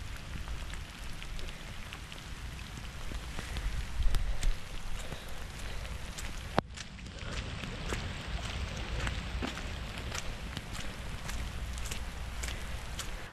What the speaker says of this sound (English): I'm gonna stop talking because it is now raining harder.